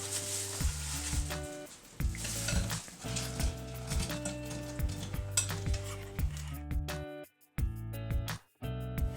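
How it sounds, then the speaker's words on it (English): Chicken wings are tossed into hot sauce in a pan with a close sizzle, repeated clinks and scrapes of a utensil against the pan, and a few brief pauses near the end. "So we're going to take the wings, and put them into the sauce."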